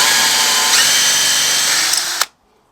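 Power drill running steadily and loudly during an intercooler install on a Vauxhall Corsa VXR Nurburgring, a continuous high whine that stops abruptly near the end, leaving silence.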